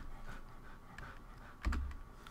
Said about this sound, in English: You hear my puppy dog in the background?